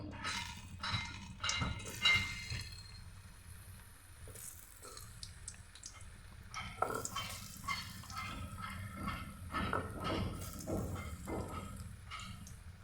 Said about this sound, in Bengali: সয়াবিন তেল গরম হয়ে গেছে এখন আমি একটা আলুগুলি দিয়ে দিচ্ছি